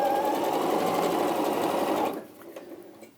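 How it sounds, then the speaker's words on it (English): Sewing machine running a quarter-inch seam, a steady loud whir for about two seconds that stops abruptly, leaving faint handling noises. "And stitch that down, another 1/4 inch seam"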